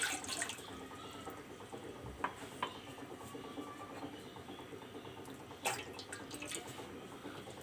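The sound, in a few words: pouring three cups of water for tea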